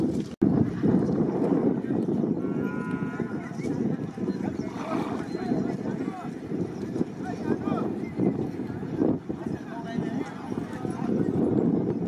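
Horses and bullocks pull carts at a racing event on an open ground, their hooves drumming in a continuous clip-clop under constant excited crowd shouting and commentary, with wind noise throughout.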